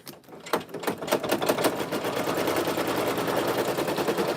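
A Brother PE800 single-needle embroidery machine stitches an inside line, a steady rapid mechanical clatter that starts with a few slow stitches then settles into a fast even rhythm, close and continuous.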